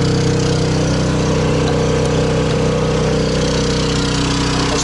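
Portable generator running steadily inside a ventilated enclosure box, a continuous engine drone with a strong low hum, heard up close and unbroken with no talking.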